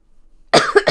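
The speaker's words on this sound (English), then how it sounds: "I've still got a bit of a cough" A single sharp cough bursts out after a brief silence, followed by a couple of quick throaty follow-up coughs, close and fairly loud.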